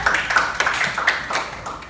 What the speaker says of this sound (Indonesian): Silakan tepuk tangan dulu untuk yang sudah memberikan jawaban yang sudah berani